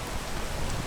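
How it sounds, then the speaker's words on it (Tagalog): Steady rain falling outdoors, a dense, even hiss of drops close by, continuous throughout with no voices. "ulan ng ulan"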